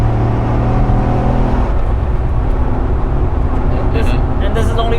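A Corvette C6 Z06 engine droning loudly on track and shifting in pitch while downshifting, a steady in-car roar under talk with a few brief higher squeals toward the end.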